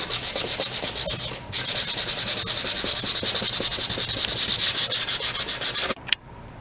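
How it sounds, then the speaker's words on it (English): Rapid, steady back-and-forth scraping of sandpaper along the grain of a wooden frame, loud and close, with a brief pause early on and stopping near the end. "You're supposed to only sand with the grain of the wood."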